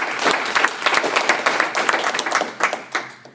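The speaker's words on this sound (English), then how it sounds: "So one more round of applause for Linda," An audience at a magazine launch and award event applauds, dense overlapping hand claps filling a room, steady and fairly loud for a few seconds before tapering slightly.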